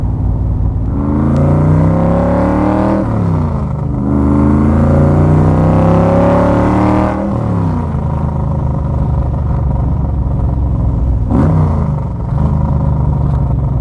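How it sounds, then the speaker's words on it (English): Roush engine in a Factory Five Cobra with fuel injection, individual throttles and a six-speed gearbox, revving loud and close through rising gear pulls, with a shift-like dip near the end and no talk over it. "they build a great motor, especially when it's fuel injected with individual throttles"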